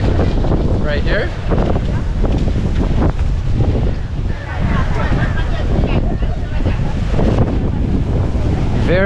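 Stormy ocean waves crash and surge onto rocks beside a seaside market in Sri Lanka, with heavy wind buffeting the microphone and a roaring, churning wash of water up close.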